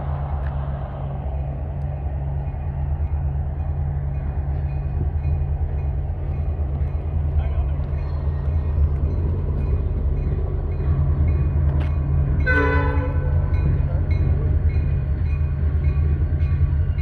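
A freight train rumbles steadily past at close range near a BASF chemical plant in Spartanburg, South Carolina, and a short horn blast sounds about three-quarters of the way through.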